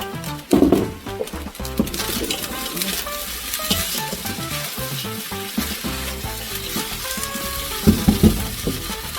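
Liver and beef frying in a pan with clattering stirring and utensil scrapes over steady sizzle, loud and close, with brief clanks near the start and end.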